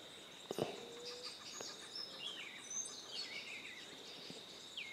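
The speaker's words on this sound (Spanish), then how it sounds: "Mientras las aves cantan" Birds sing in the countryside around a cuckoo farm at dawn, several thin whistled calls and chirps drifting faint and distant over a steady high insect drone, with a few soft knocks nearby.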